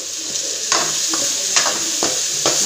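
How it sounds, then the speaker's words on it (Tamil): Tomatoes and curry leaves sauté in hot oil with onions for a fish curry, a steady close sizzle broken by several scraping stirs of a spoon against the pan. "கருவேப்பிலை கொஞ்சம் போட்டுக்கிடலாம், கொஞ்சம் தக்காளி போட்டுக்கிடலாம். நல்லா வதக்கிடலாம்"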